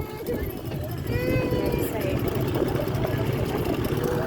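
A boat motor runs steadily at Dhom Dam, a close, continuous mid-pitched engine hum with water churn, while people chat over it.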